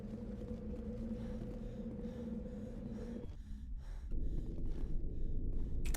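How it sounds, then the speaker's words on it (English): The video game character Shepard breathes heavily, with labored gasps and snorting exhales over a droning game soundtrack that cuts out briefly and returns. "Wow, heavy breathing."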